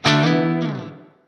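A single clean guitar chord rings out through a Blackstar HT-20RH MkIII amp head with extreme reverb, loud at the attack and then washing away into a long, smooth tail that fades to silence within about a second.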